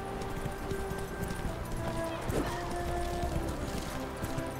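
A horse gallops in The Witcher 3: Wild Hunt, with a quick run of hoof beats under game music and ambience, and a brief whinny-like sound midway.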